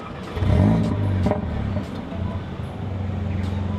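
A Malaysian-unit Stage 2 C117 Mercedes-AMG CLA45 starts with a brief key turn, its engine catching in a loud close burst that settles into a steady idle.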